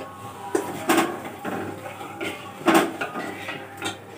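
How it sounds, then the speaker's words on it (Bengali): Milk with sugar being stirred in a pot on the stove for homemade ice cream: a series of scraping, knocking strokes of the spoon against the pot at an uneven rhythm, close and fairly loud. "একটু হালকা হালকা করে এইভাবে নাড়তে থাকবো, নইলে পুড়ে গেলে দুধটা নষ্ট হয়ে যাবে আইসক্রিমটা পুরোটাই"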